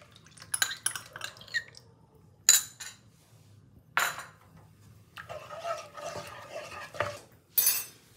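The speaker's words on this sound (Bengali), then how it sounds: "দিয়ে এবার সসটাকে আমি দিয়ে দেবো।" A utensil scrapes and clinks against a pan while sauce is stirred into Chicken Manchurian, quiet scattered strokes and taps with short pauses between them, no talking.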